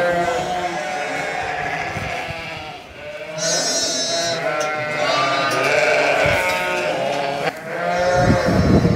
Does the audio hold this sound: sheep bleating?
yes